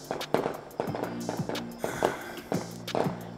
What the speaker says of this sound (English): Why are they still popping fireworks?